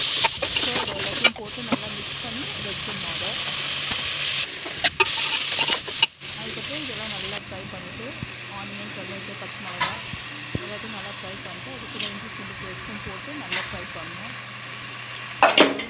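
Chicken seasoned with chilli powder and turmeric sautés in a pan, a continuous close sizzle broken by scraping stirs and occasional sharp clinks of the spoon against the pan.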